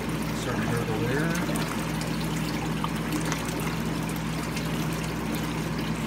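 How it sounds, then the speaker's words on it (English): Water gurgling and trickling as a pump drains an entire upper garden bed, a continuous close watery burble over a low steady pump hum. "it's evacuating the entire upper bed, and starting to gurgle there"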